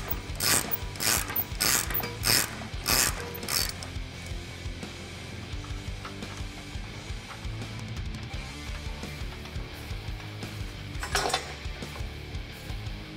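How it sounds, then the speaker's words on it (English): A ratchet fitted with a 21mm socket works a control arm bolt loose on a 1997-2006 Jeep Wrangler TJ, giving bursts of quick metallic clicking near the start and again later, with clinks and handling noise between them. "I'm going to be using my adjustable wrench set to 21mm and a 21mm socket to remove this upper lower control arm bolt."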